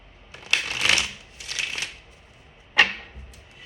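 A deck of cards is shuffled in two quick riffling bursts and then snapped together with a sharp flutter, close and fairly quiet, with no speech.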